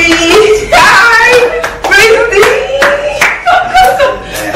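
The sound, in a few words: baby clapping hands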